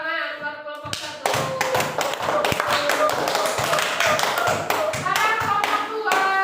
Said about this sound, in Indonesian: Ya, udah tepuk tangan buat kelompok 1.